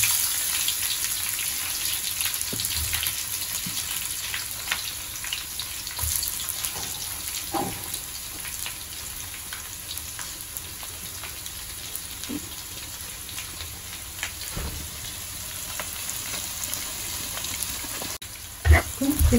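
Chopped onions hit hot oil in a curry pan after whole spices such as cloves, giving a steady crackling sizzle that runs without a break through the whole stretch, close and moderately loud with no talk over it.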